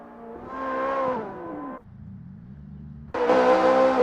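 A Ferrari F355 Challenge Evoluzione racing at Mugello in Assetto Corsa, its engine note rising through the revs, cutting off briefly to a low burble, then surging loud again on hard acceleration.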